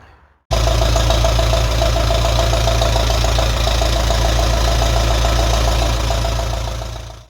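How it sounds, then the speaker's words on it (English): An old tractor with a 6-volt electrical system starts up and runs steadily, a loud close chugging idle with a regular knocking beat and deep low rumble, continuing alone until it winds down at the end. "The tractor going at the moment"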